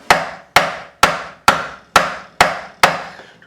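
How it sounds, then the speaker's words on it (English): Seven sharp, evenly spaced taps from the nylon end of a fretting hammer striking the frets of a Jackson-style partscaster guitar neck resting on a neck support, each a bright knock with a short ringing decay, close and clear with no talking. "Just sit with the nylon end of my fretting hammer"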